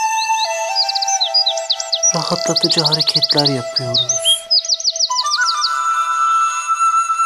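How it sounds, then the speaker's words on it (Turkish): Bright, repeated birdsong chirps and trills play as a steady relaxing background, continuing while a voice speaks calmly over the middle part. "Kendinizi kuşların cıvıltılarına bırakın."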